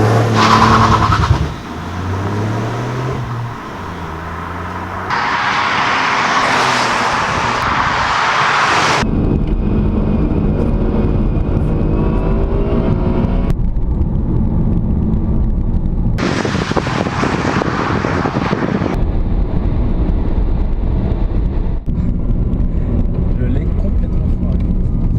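A Mini Clubman driven hard on a racing circuit in sport mode, its engine droning and revving loudly from inside the cabin with pitch swells, while people talk and exclaim over it.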